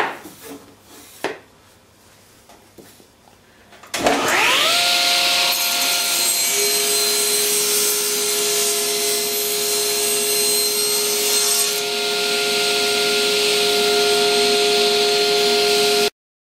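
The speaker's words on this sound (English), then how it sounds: "now I can cut it on the table saw" A table saw starts up and cuts through a taped wooden dowel, a loud sustained whine with steady tonal hum running alone after a few quiet knocks of setup.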